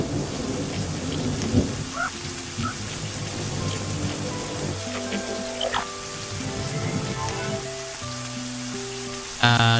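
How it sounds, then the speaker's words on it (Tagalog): Heavy rain pours steadily through an animated story scene, with rumbles of thunder rolling beneath the constant hiss and a few brighter tones near the end. "Ngunit nang lumakas ang ulan"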